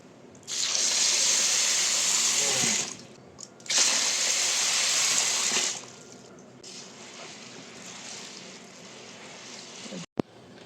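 Water gushes from a tap in two strong bursts, then a softer steady trickle and splashing as sorghum grain is washed in a basin, with a sharp knock near the end.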